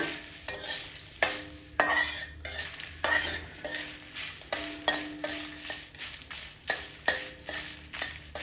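Curry leaves being dry-roasted for curry leaf powder, stirred in a pan with a metal spoon: steady rhythmic scraping and clinking strokes over a soft crackle, close and fairly loud, with no voices.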